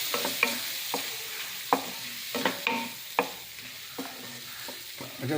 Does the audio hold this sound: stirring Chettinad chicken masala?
yes